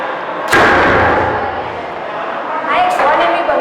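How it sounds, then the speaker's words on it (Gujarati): Two sharp, loud bangs about two and a half seconds apart from a homemade gun built as a school science project to scare wild animals such as nilgai off farm fields at night, each followed by a short decaying rumble. "આ એક સ્વનિર્મિત બંદૂક છે."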